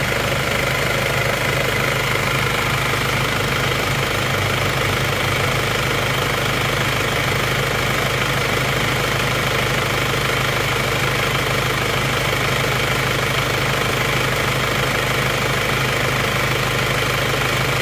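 An Isuzu Panther diesel engine runs steadily right after a tune-up, a loud close rumbling idle with a constant droning hum and no clear revving swells, with no voices over it.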